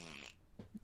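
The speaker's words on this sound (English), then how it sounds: "I think I have a fart sound somewhere" A short fart sound effect played back, a brief buzzy splutter followed by a couple of low, blurting pops.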